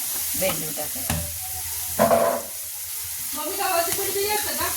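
Green masala with okra roasting in oil in a pan, loud sizzling punctuated by several scraping, clattering stirs of a spatula, with no speech.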